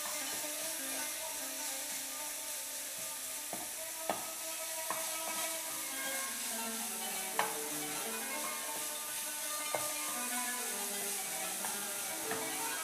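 A sauce seasoned with herbes de Provence and paprika simmers and is stirred in a pan, giving a faint, soft sizzle with occasional light utensil clicks against the cookware.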